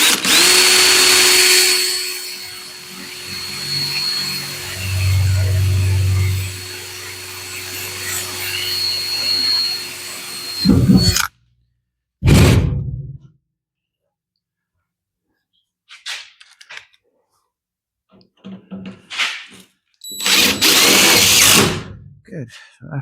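A power drill bores screw holes to mount an exhaust paint filter in a garage body shop, with a long close whirring run, then short bursts separated by pauses and a few clicks, with someone speaking briefly.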